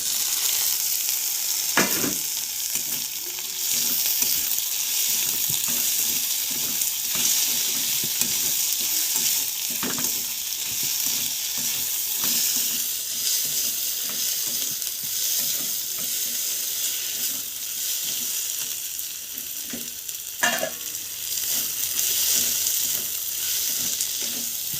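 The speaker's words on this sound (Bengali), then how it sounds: "এবার দিয়ে দেবো টমেটো কুচি।" Chopped tomato fries in a pan for a Bengali chicken curry, giving a continuous bright sizzle and hiss with occasional stirring scrapes and clicks, steady and close throughout.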